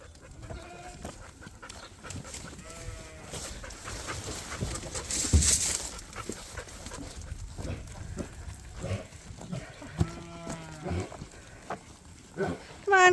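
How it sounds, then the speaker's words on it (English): Ewe lambs bleating repeatedly while being herded between pens on a sheep farm in hot weather, several overlapping calls near and farther off, with a panting dog and a person talking. "Moving the ewe lambs over."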